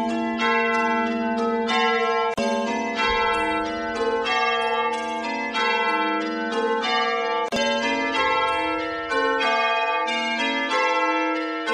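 Bright, layered church-bell-like tones from AI-generated music ring out continuously like pealing bells, with sustained harmonic chimes and a few sharp transitions, loud and full throughout.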